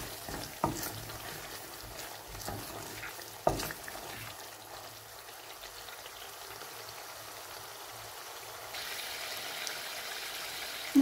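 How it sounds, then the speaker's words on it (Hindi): Salt, red chilli, turmeric and crushed coriander roast in a pan for chicken kaddu. The sizzle is soft and steady, broken by a few sharp scrapes and knocks of stirring, and no one speaks. "अब इस मसाले की भुनाई करेंगे अच्छे से"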